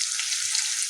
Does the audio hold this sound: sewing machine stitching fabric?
no